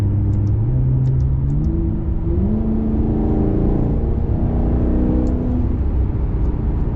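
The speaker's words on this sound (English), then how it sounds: "Here I am driving the Maserati on some side roads." A Maserati driven on side roads, its engine loud and steady from inside as it accelerates and pulls through the gears, with the engine's pitch climbing and dropping between shifts.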